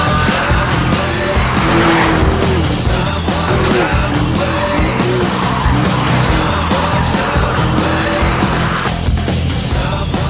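A Porsche 911 of the 997 generation driven hard around a greasy Silverstone circuit with stability management off, its engine roaring loud and continuous, with tyre squeal and skidding throughout.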